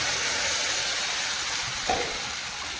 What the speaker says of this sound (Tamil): அரைச்சிட்டு வந்த மசாலா ஊற்றுறோம்